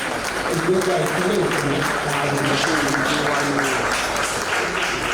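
Applause from an audience at a Lagos State press briefing on the 2025 appropriation law, a steady broadband wash of clapping lasting throughout, with voices talking over it.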